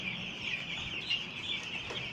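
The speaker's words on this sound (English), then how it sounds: "we are here to see our very young tender age broilers" Week-old broiler chicks peep continuously in a steady, dense chorus of high chirps, close by and fairly loud, with no talk over them.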